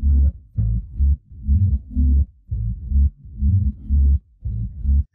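An isolated bass stem pulled from a full track with Xtrax Stems software, playing a deep, punchy bassline in a steady rhythm of repeated thick low notes with short gaps, loud and alone.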